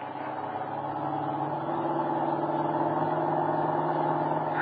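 Radio drama sound effect of a car accelerating in pursuit, a steady mid-range engine roar that builds gradually and holds close and loud throughout, with no voices.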